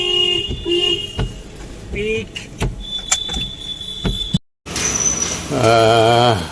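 A car horn sounds with a sustained tone, amid traffic and vehicle noise, with people talking nearby.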